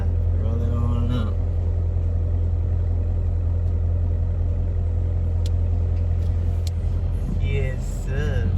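A Lamborghini Urus with a mid muffler delete rumbles with a deep, steady, loud exhaust drone close by. A voice is briefly heard early on.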